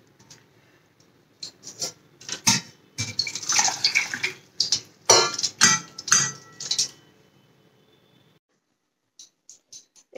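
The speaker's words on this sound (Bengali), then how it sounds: "এই সাবুটাকে আগে একটু ভালো করে ধুয়ে 2-3 বার তারপরে এখানে ছাঁকনির মধ্যে তুলে রাখবো" Small-grain sago being rinsed in water, with intermittent splashing and swishing bursts that come in uneven clusters, then fade to quiet with a few soft clinks at the end; no one speaks.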